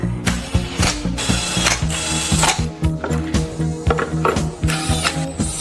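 A ratchet wrench clicks in rapid, loud bursts while working on a Jaguar XJ8 engine during a full rebuild. The close, mechanical ratcheting repeats steadily, with short pauses between runs and no talking.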